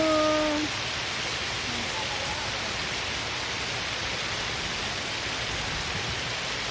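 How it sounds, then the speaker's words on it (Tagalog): Rain falls at a farm in Santa Catalina as a steady, even hiss that fills the whole stretch, with a faint brief tone at the very start. "It's raining."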